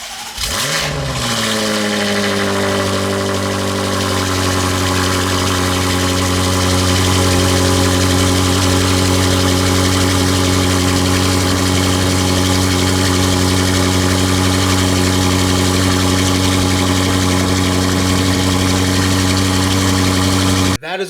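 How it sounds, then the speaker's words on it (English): BMW M5 Competition fitted with catless downpipes and front-mount intakes starts up in Sport Plus with a brief flare, then settles into a loud, steady, deep idle that holds close and alone for nearly the whole stretch. "we're gonna change the engine to Sport Plus and basically start the bad boy up."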